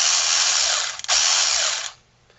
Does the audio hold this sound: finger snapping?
no